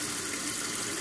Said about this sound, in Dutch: Het water eruit laten lopen.